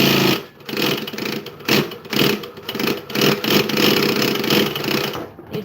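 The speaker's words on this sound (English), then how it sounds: "So much more fun to rev your machine." A sewing machine revs in fast uneven surges, speeding up and slowing down repeatedly, loud and close, with no talking.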